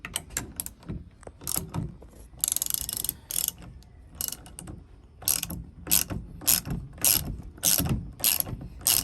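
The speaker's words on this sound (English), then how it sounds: "So I think all I have to do is just remove this one bolt here and it should release it." A ratchet wrench loosens a bolt on a car's BC Racing coilover, making rapid bursts of close, crisp clicking that come in several separate runs with short pauses between them.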